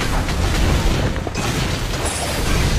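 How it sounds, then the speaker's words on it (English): A loud, dense crash of noise fills the scene as a turret is destroyed in the Mobile Legends video game, with a sustained roaring boom and no clear speech over it. "Your team destroyed a turret."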